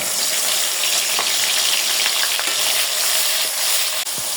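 Poppy seed paste and onion frying in hot oil, a loud, dense, continuous sizzle with faint stirring scrapes near the end, close up and without talk.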